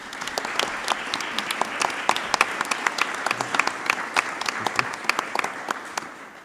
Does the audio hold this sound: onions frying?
no